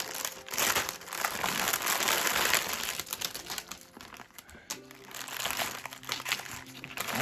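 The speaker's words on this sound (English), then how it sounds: "This is a very crinkly packet, but I'm going to just open this up now" Crinkly plastic craft kit packet being torn open and handled: loud, close crackling and crumpling that rises and falls continuously.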